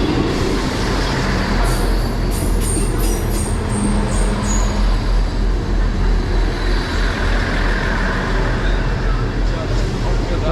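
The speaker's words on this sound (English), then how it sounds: "arriving now is the 10:55 South Western Railway service to London Waterloo from Exeter St David's" A South Western Railway Class 159 diesel train pulls into Honiton station with a loud, steady rumble and brief high squeals from the wheels.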